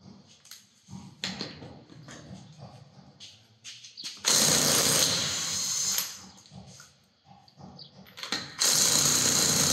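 Wheel nuts come off a Hyundai Tucson as an impact power tool with a 21mm socket rattles in loud, sustained bursts, split by quieter clanks and handling noise.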